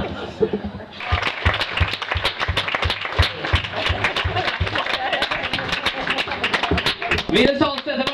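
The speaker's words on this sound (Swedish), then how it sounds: "Ville Sahlstedt, en varm applåd för Ville." A comedy club crowd at a standup show breaks into warm applause, dense clapping and a few whoops building after a brief pause and staying loud, with the host's voice and audience chatter mixed in.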